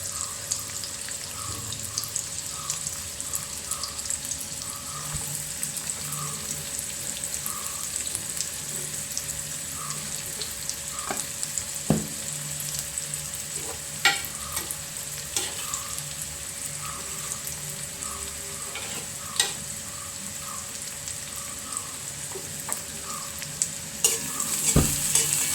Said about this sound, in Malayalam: സവോള ഒന്ന് മൊരിയട്ടെ.